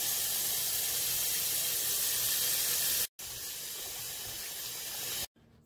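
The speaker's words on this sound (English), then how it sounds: "I'll be washing the meat with some vinegar." Water runs steadily from a tap while oxtail meat is washed with vinegar and water at a kitchen sink, a close hissing flow broken by two brief pauses.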